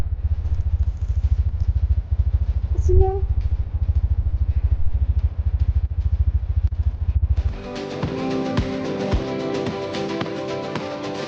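On a mountain climb to Gunung Luhur near Cisarua, a motorcycle engine chugs in fast regular pulses, labouring as it loses power. After about seven seconds the sound changes abruptly to a busier, brighter clatter.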